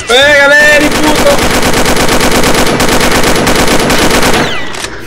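Rapid automatic gunfire in the video game Combat Arms Classic, a loud sustained burst of close, evenly spaced shots lasting several seconds before tapering off, with a brief voice heard at the start.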